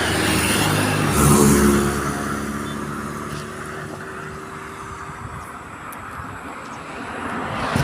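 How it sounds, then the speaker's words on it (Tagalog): Motorcycles and other vehicles pass steadily along a Philippine road, a continuous loud rush of engines and tyres with a swell near the start, then a lower sustained roar. "Ang dami ng motor na dumadaan."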